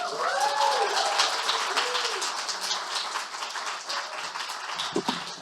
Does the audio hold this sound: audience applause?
yes